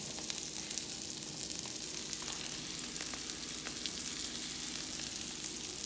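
Parmesan-crusted chicken fries in a skillet with a steady, dense sizzle and crackle of hot oil, close and continuous with no talking.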